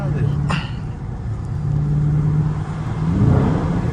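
A car engine revs with a throaty exhaust rumble, swelling toward the end, close by, while people talk over it.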